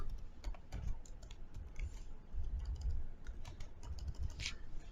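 Someone types text on a computer keyboard while working in photo editing software, making rapid, irregular clicking keystrokes close by, with no talking.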